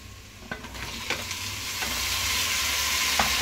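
Tomatoes sauté in a hot pan with a steady close sizzle that swells gradually, broken by a few scraping stirs, and no voices.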